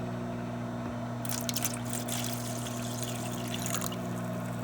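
Vinegar poured into water for a silver-cleaning mix, a soft trickling splash over a steady low hum, fairly faint.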